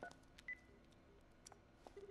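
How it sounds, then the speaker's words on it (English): Faint touch-tone beeps of a phone being dialed in the Dead Rising video game, several short tones spaced irregularly across a quiet background. "The emergency line's been freed up. I'll give headquarters a call."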